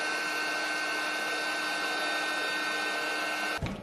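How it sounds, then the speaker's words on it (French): A steady, loud electric air pump whines and drones continuously, then cuts off abruptly near the end with a brief thump. "J'ai une pompe dehors électrique, je pense que je vais utiliser ça"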